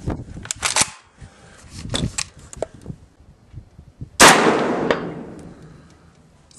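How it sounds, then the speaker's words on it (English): Saiga rifle chambered in 5.45x39 firing at an outdoor range: a string of sharp, loud shots in the first seconds, then a single heavy blast with a long ringing decay. "let's start shooting."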